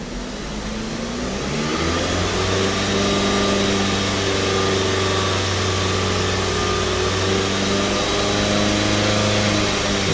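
A 2012 Jeep Compass engine with a CVT transmission revving while in drive, a loud steady droning roar that climbs briefly in the first two seconds and then holds a high sustained pitch, close and without talk.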